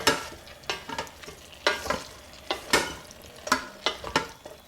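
Vegetable biryani ingredients are stirred together in a single pot, the spoon scraping and swishing in repeated strokes over a soft sizzle, close and clear with no talking.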